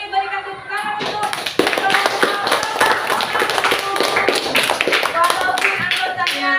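A classroom of children applauds together, a dense, lively burst of clapping that starts up and carries on steadily, with voices talking over it.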